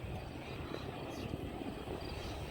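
Aerobatic airplane flying half of a Cuban 8 maneuver at a New York airshow, a faint, distant, continuous engine drone set against broadband wind-like noise.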